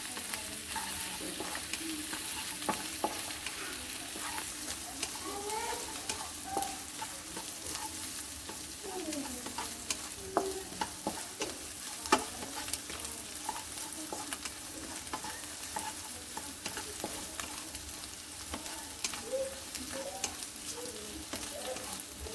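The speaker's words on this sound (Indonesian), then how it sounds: "Kita aduk terus." Stir-fried white cabbage tossed in a pan, a long stretch of steady frying sizzle with repeated scraping and clattering stirs, close and unbroken by any voice.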